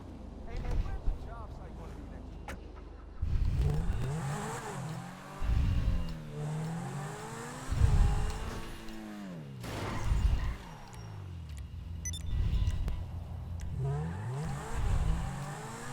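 Video-game car in GTA: engine revs in a series of loud surges that rise and fall every couple of seconds, under someone speaking French between the bursts.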